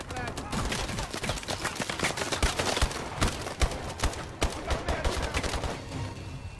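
Rapid bursts of gunfire from Call of Duty: Advanced Warfare multiplayer, sharp cracks repeating in quick clusters over a dense layer of game noise and effects.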